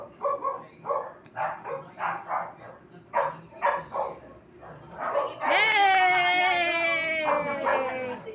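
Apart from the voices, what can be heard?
pet dogs barking along to birthday song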